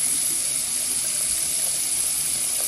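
Hot water gushing hard from a tap in a hotel room, a loud, steady, unbroken rush of running water heard alone and close.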